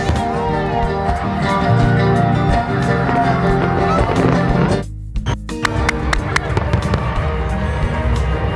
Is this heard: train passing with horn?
no